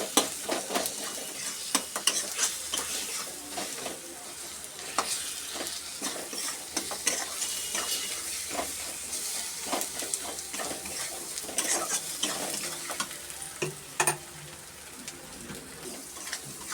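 Spices cooking in a pan with chili powder, cumin, salt and garam masala, stirred steadily with scraping clicks over a continuous close sizzle, broken by a few sharper knocks of the utensil.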